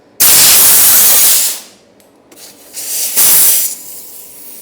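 Compressed air hisses into a Pirelli tyre on a Honda Wave motorcycle wheel to seat the bead, coming in two loud, close bursts separated by a short pause.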